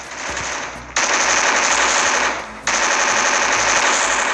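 Rapid automatic gunfire in the Free Fire video game, loud and close, in two long sustained bursts separated by a brief pause.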